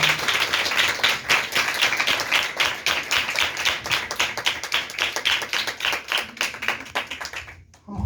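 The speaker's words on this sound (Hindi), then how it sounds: "आए पाक रूह को जोरदार तालियों के साथ" A church congregation claps vigorously together in a fast, steady rhythm of loud sharp claps that stops abruptly near the end.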